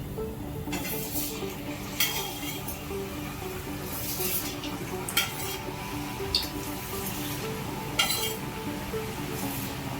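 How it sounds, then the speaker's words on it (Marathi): Chakli dough sizzles in hot oil against a steady frying hiss, with several bright metallic clinks of a utensil against the pan spaced throughout. "आता या चक चकली मी तेलात सोडते"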